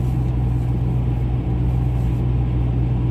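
Steady low engine rumble from a pickup truck climbing a highway on-ramp, heard from inside the cab with a constant droning hum and no clear rev swell, loud and continuous for about three seconds.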